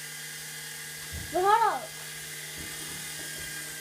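A toy helicopter's rotor gives a brief rising-and-falling whine in the middle of the clip, loud for about half a second over steady room hum. A person speaks a few words around it.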